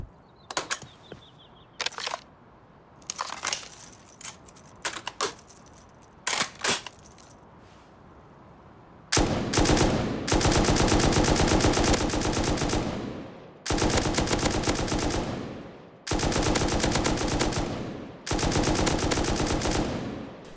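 An M249 light machine gun in the Rust video game fires, first in scattered single shots and short bursts, then in long, loud full-auto bursts with a muzzle brake fitted.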